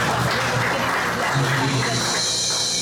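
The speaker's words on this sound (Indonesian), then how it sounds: "Kita berikan tepuk tangan yang luar biasa." Congregation at a church worship service gives loud, continuous applause, a dense wash of clapping throughout with speech and a faint tone overlapping.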